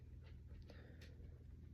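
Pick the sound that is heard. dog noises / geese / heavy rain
dog noises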